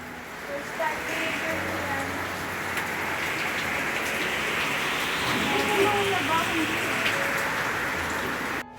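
Heavy typhoon rain pours steadily in Camarines Norte, a dense continuous hiss of drops beating on surfaces, with faint voices under the downpour.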